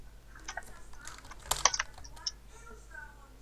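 Typing on a computer keyboard during a game chat: scattered soft key clicks with a brief faster burst in the middle, faint and close, over a low background hum.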